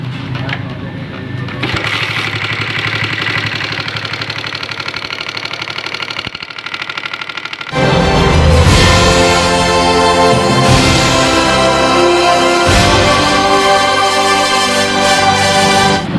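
Honda CB150R motorcycle engine, removed from its frame and in a noisy condition, first turning over and idling with a rattling clatter, then revving louder and rougher at close range.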